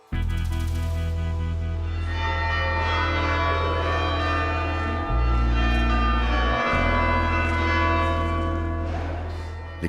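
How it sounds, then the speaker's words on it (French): Church bells of Les Invalides in Paris ring out the hour with a loud, sustained, resonant peal that holds steady from start to finish, with no talk over it. "Les cloches des Invalides sonnent déjà l'heure du repli."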